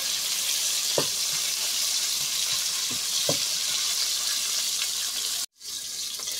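Pork browns in a frying pan with a steady close sizzle and a few sharp utensil knocks against the pan; the hiss cuts out briefly near the end, then resumes.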